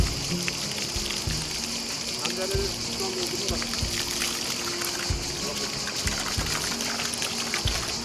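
Ice-cold spring water runs from a fountain in Körkün Canyon near Adana, pouring and trickling steadily nearby with intermittent thumps and handling noises, while people talk over the flow.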